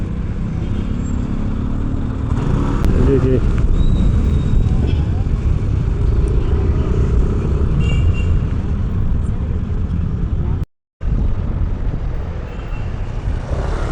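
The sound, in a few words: heavy road traffic in Barangay Poblacion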